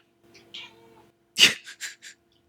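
A house cat meows, with one soft call followed by a louder, sharper cry and a few short chirping meows in quick succession, close and alone.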